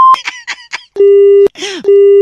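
Phone line tone after a caller hangs up during a radio prank call: a steady loud beeping tone sounding in long continuous stretches, broken once by a brief burst, with short chirpy beeps at the start.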